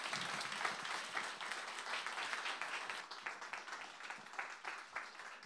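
A church congregation applauds after a testimony at a Presbyterian worship service, with a dense, steady patter of many hands that softens slightly in the closing seconds; the sound is faint and distant.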